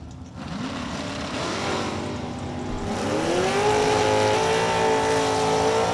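A Mustang drag car launches hard at a drag strip, its engine roaring up through rising revs, loud and close, then holding a strained high note as it pulls away.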